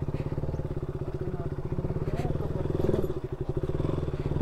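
A motorcycle rolls slowly downhill on a rough mountain road near Baglung, its engine thudding at a low, even idle close by, with faint clatter over the whole stretch.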